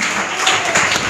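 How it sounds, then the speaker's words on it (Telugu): A church congregation claps loudly and steadily during a Telugu sermon, a dense, continuous wash of many hands close by with no pauses. "చప్పట్లు కొట్టు, గట్టిగా గట్టిగా గట్టిగా చప్పట్లు కొడదాం"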